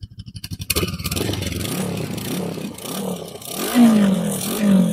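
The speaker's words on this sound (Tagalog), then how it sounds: "itong motor na nasa harap nyo, ito yung SYM ADX TG. 400cc" SYM ADX TG 400cc motorcycle engine starting with a few cranking pulses, then idling close by with a steady rumble and two short throttle blips that raise the revs.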